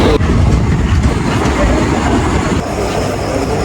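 A train rumbling steadily along with a loud, continuous roar and faint clattering of the wheels, heard from on board, close by and filling the whole stretch.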